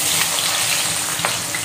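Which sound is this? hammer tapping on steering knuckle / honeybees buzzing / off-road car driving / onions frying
onions frying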